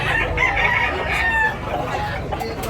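Rooster crowing at the Tabunok chicken market in Talisay, Cebu, a loud, close, drawn-out call over busy market background noise.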